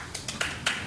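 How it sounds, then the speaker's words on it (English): A small studio audience at a daytime talk show claps sparsely, a few distinct sharp claps in quick succession, fairly faint and alone. "Clap if you would stay."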